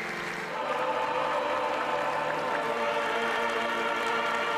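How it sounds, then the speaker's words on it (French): A large crowd massed in Rome applauds without pause at the beatification of John Paul II, a dense, steady wash of distant clapping that stays at an even level throughout. "la foule massée à Rome va applaudir sans discontinuer"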